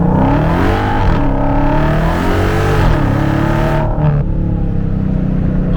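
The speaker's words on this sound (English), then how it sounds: "let's do a quick little acceleration here in 717 horsepower mode" A 2023 Dodge Challenger Hellcat Jailbreak in 717-horsepower mode pulls hard in first gear, its supercharged engine roaring loud and rising steadily in pitch from inside the cabin, then dropping off sharply at the shift.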